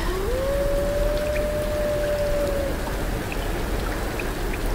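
Steady rain hisses in the Tomb Raider video game, a constant close wash of drops with a faint gliding tone early on and no voices.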